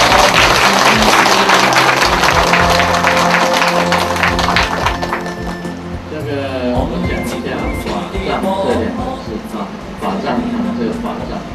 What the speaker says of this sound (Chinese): 大家用现在的掌声来感谢。